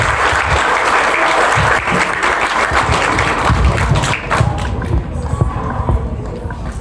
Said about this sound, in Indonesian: Hebat, tepuk tangan.